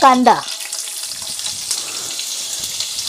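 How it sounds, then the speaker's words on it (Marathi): Curry leaves sizzle in hot oil in a frying pan, opening with a brief voice and then a steady, close crackling hiss that holds on its own. "थोडंसं कढीपत्त्याचे 4-5 पानं टाकले ते बघा, बारीक बारीक पीस केलेत"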